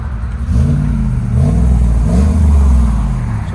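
A cammed GMC Sierra with a 6.2L V8, headers and exhaust valves closed revs loudly and close, its deep lopey rumble rising and falling through two or three throttle blips with no talk.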